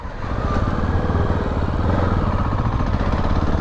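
A MASH X-Ride 650 motorcycle engine chugs and judders at very low revs near stalling, a close, loud, rough single-cylinder thump running steadily throughout.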